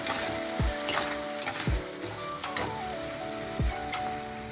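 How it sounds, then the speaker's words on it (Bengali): Tomato masala fries in a pan, a constant crackling sizzle broken by a few low thuds and scrapes of stirring, with a faint tonal background and no speech. "যতক্ষণ মশলাটা বন্ধ যাচ্ছে না ততক্ষণ আমি ভালো করে কষে যাব"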